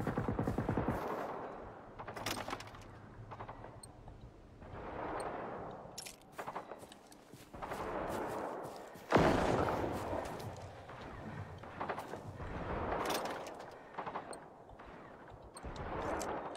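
Enemy gunfire in the Generation Zero video game, bursts of rapid automatic shots and sharp cracks arriving in irregular clusters separated by short lulls, fairly loud and close with echoing tails.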